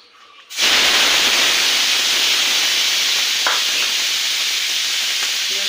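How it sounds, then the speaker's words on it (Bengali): Onions for lau shak hit hot oil after the tempering spices, setting off a sudden, loud, steady sizzling hiss that carries on unbroken, close up with no talk. "এবারে দেবো পেঁয়াজ,"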